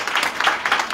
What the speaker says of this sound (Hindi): सारे बोला ताली बजा के धन्यवाद करें।